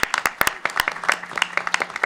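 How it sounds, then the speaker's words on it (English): Scattered, uneven clapping from a small crowd, sharp individual claps close by, lasting a couple of seconds. "we can have a round of applause"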